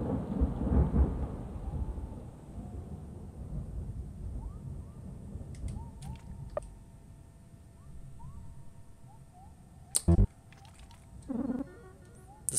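Thunder rumbles through a stormy scene in the video game LISA The Painful RPG, a loud low roll at the start easing into a long quieter rumble, with a few sharp cracks and short game tones later on.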